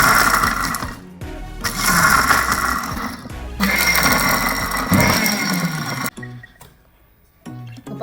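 A kitchen mixer grinder pulses coarse chammanthi ingredients for a Kerala-style coconut chutney, loud whirring bursts of a few seconds each separated by short silences, the last bursts briefer, no talk.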